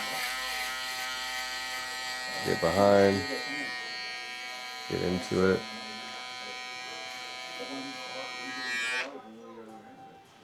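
An electric shaver buzzes steadily through a burst fade haircut with a textured fringe, a close, even whine that cuts off near the end, while someone talks over it in short bursts.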